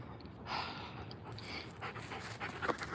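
Puppy panting quickly and steadily up close, with rapid breathy rhythm across a few seconds, outdoors during a morning exercise walk.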